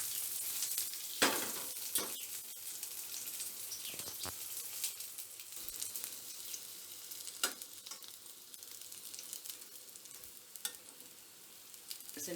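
Stuffed bitter gourd frying in a pan over medium heat, a continuous low crackling sizzle with occasional sharper pops and light clatters, steady and close.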